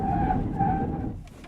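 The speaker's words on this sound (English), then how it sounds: "Then I'm gonna brake hard right here" A 2024 Lexus GX550 Overtrail+ braking hard, its tires letting out a sustained squealing skid over a heavy rumble of road and engine noise. The sound fades toward the end as the vehicle slows.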